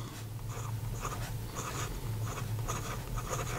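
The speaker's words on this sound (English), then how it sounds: "here we go with the writing sample for the Parker" A Parker Duofold Maxima fountain pen with an oblique nib, inked with Waterman ink, scratches across paper in steady, close strokes and short pauses over a faint low hum.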